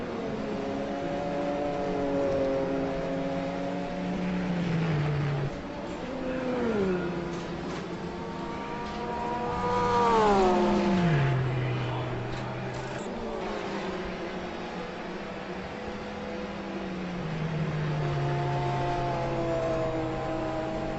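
A P1 prototype race car passes at Sebring during an endurance race, its engine note rising and falling through gear changes and swelling as it approaches before fading away, with other race engine sounds continuing around it.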